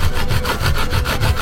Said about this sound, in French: Maintenant, pour la découpe, je vais utiliser cette scie.